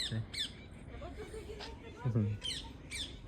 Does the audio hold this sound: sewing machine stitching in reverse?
no